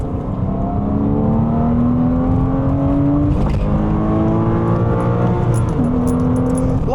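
Porsche Cayman engine revs loud and close, pitch climbing steadily through each gear, with a quick drop at every shift before the rise starts again, two shifts in all.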